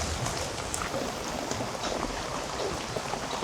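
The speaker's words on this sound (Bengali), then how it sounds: "ভালো বৃষ্টি হইতেছে।" Steady broadband hiss of rain falling, constant and fairly loud throughout with scattered drop patters, no voices.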